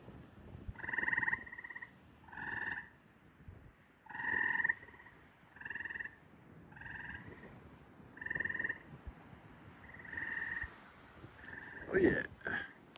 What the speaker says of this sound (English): Where you at, frogs?